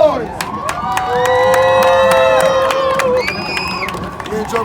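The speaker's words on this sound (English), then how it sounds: "clap your hands and make some noise" An outdoor crowd in Times Square claps and cheers loudly, with whoops and shouts rising into a sustained roar of applause before easing off slightly.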